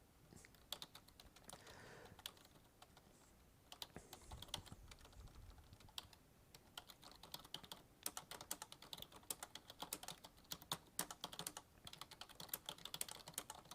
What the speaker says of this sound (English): I'm just typing in instructions